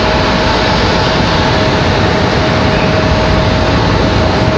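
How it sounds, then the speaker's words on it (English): JetBlue Airbus A320 on the move at Raleigh-Durham airport, a loud continuous jet engine rush with a steady whining tone running through it, near and unbroken. "This is a good looking JetBlue getting ready to depart here."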